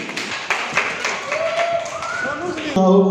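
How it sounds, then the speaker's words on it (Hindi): An audience breaks into loud clapping at a community event, dense rapid claps at moderate distance with a few sharper hits, and a voice and tone enter near the end. "जोरदार तालियां।"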